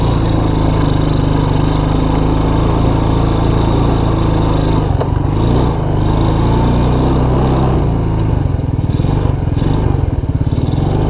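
A Suzuki King Quad 300 ATV, shifted into neutral, runs close by with a loud, steady, rough engine drone that dips briefly a few times, no speech.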